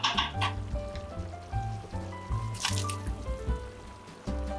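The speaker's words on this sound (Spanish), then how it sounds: "ahora sí ya vamos a agregarle las papas que están previamente cocidas en agua y peladas" Peeled potatoes, previously boiled in water, go into a simmering cod stew, giving a close run of wet squelches, drips and plops against the pot, with light clinks over a steady bubbling background.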